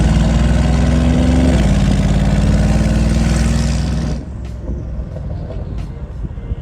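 A Mercedes G63 V8 with a P1 Motorsports exhaust and downpipe on its loudest setting rumbles with a deep, loud burble for about four seconds, then drops to a quieter, muffled hum.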